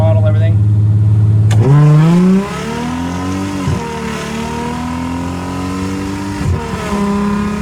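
A Mercedes SLK320 running a nitrous tune accelerates hard from close up with the nitrous on, its engine note climbing steadily through the gears in loud sweeping rises with brief dips at shifts, with a voice over the start.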